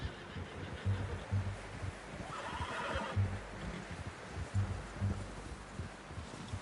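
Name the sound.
horse neighing in a video game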